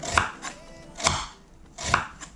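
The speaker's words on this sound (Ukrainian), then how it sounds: "Селеру нарізаю на пластинки." Knife slices celery into thin slices on a cutting board, three firm crunchy strokes with short pauses, close up and without voices.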